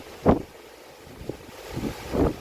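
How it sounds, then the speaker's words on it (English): Hurricane-force wind gusts buffet the microphone in rough, roaring bursts, rising and falling unevenly with no voices present. "We're currently experiencing hurricane force winds."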